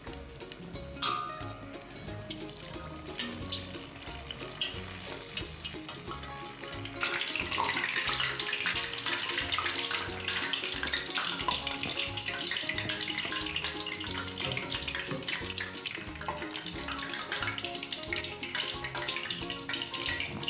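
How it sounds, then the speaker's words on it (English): Panzerotti deep-frying in hot oil give a loud, steady sizzle with dense crackling and spitting that swells and stays intense throughout, with no voices. "Always be careful when frying because, you know, you never know."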